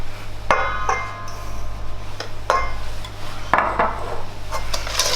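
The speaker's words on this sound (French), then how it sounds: "Et on continue à mélanger." Spoon or whisk clattering against a bowl while flour is stirred into galette des rois batter, a few sharp knocks and scrapes standing out over steady stirring noise, close and fairly loud.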